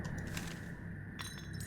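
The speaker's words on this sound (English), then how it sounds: "At last, the beer bottles are breakable." Beer bottles break in a video game: a bright glassy shatter with tinkling fragments over a steady low background hum.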